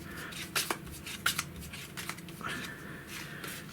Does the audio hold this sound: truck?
no